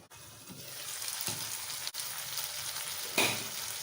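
Chopped chayote (chow chow) fries in a pan for a poriyal, a continuous close sizzle broken by a few scraping stirs and clinks of a spoon, fairly quiet overall, without speech.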